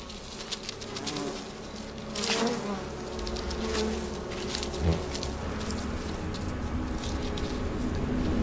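Bees and hornets buzz in a dense, continuous drone at a bee colony, with overlapping wingbeats rising and falling close by and occasional louder passes, no voices.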